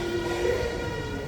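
The engine of the Ooty toy train between Ooty and Coonoor hums and rumbles steadily at close range, a continuous low drone with no breaks.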